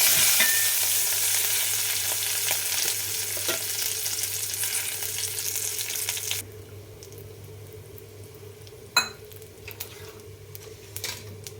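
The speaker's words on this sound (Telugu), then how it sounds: "ఇప్పుడు కొద్దిగా కరివేపాకు బాగా కలపాలి" Curry leaves stir-fried in hot oil in a pan while making brinjal pulusu, a broadband sizzle dense for six seconds, then dropping to a quieter hiss with a steady hum and a few sharp clinks of a spoon against the pan.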